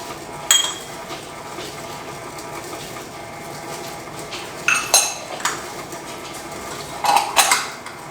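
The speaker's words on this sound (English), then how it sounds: "So we'll take a whisk and we'll just kind of mix in all these dry ingredients." Whisk stirring dry oatmeal pumpkin spice cookie ingredients in a mixing bowl, giving a few scattered clinks and scrapes of metal against the bowl over quiet kitchen background.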